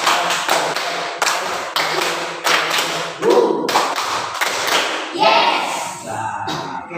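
Children clap in a counted clapping game, making sharp, close claps and thumps in uneven bursts, with voices joining in between the claps.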